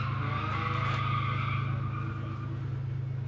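A rear-wheel drive drift limousine sliding sideways with a long, loud, continuous tire squeal over a steady engine drone, close by and unbroken.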